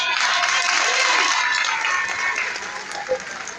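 An audience at an address by the president of the twins' association in Côte d'Ivoire applauds in a steady, dense wash of clapping that holds and slowly tapers, with faint voices mixed in.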